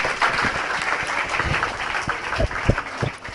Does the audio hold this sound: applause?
yes